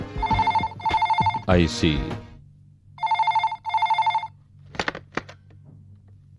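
A landline telephone rings inside a house in two-burst electronic trills, twice early and twice again after a pause, with voices speaking between the rings and a faint low hum underneath.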